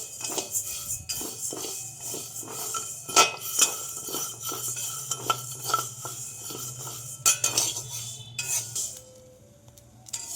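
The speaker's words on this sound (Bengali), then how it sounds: "সাবুদানা আমি দিয়ে দিচ্ছি, একটু ভেজে নেব। শুকনো খোলাতে একবারে ভেজে নেব একটু।" Sago pearls dry-roasting in a kadai, stirred with a metal spatula that scrapes and clinks against the pan in a steady, uneven rhythm, close and moderately loud, with no talking.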